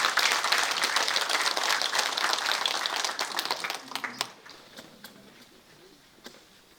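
A Buddhist book-launch ceremony audience gives dense, steady applause to welcome a monk to the front, then the clapping thins into scattered claps and fades to near quiet with a few stray taps.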